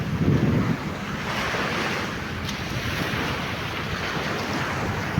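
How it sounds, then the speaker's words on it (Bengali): Ocean surf roars steadily onto the beach at Pattaya, Thailand, on a windy day, a dense continuous wash of breaking waves with wind buffeting the microphone, loudest in the opening second. "আপনারা শুনতে পাচ্ছেন সাগরের গর্জনটা আজকে অনেক"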